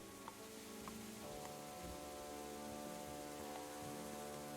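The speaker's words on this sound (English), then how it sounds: "It's warm rain though, very warm." Rain in the video game Rise to Ruins, a soft, steady patter with occasional faint drips, quiet and continuous with no talk over it.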